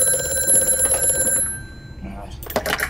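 A telephone rings in the horror game Amnesia: A Machine For Pigs, a loud sustained electronic ring that cuts off after about a second and a half, followed by quieter game ambience.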